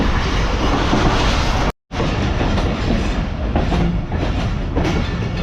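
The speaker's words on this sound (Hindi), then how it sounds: "पहाड़ों के दरमियान से निकल रही है इस वक्त हमारी ट्रेन।" The Karachi Express runs on rails near Rohri junction, passing between hills in heavy rain. A loud, steady roar of wheels and carriage rattle continues throughout, broken by one brief dropout near the start.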